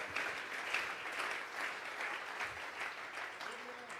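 A church congregation claps together as an offering of applause, a dense, steady wash of hands filling the room, with a voice faintly heard under it.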